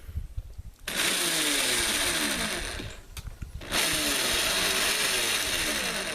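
Power drill driving a sheet metal screw into a 40-watt solar panel frame. It whines steadily and loud up close in two long bursts, with a short pause between them.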